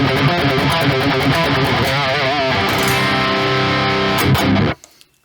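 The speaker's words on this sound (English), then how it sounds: "the riff I have to teach you guys today is a syncopated alternate picking riff" A heavily distorted metal electric guitar plays a fast, syncopated alternate-picking riff in 6/4, with dense chugging, stuttering note patterns, loud and up front, then cuts off abruptly into near silence.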